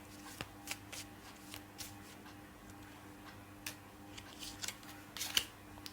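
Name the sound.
shuffling and pulling Lenormand cards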